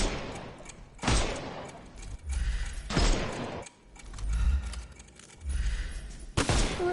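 Gunshots in a Sherlock Holmes video game, several loud broadband bursts in an irregular volley with mechanical clatter and rumbling between them, close and alone without talk.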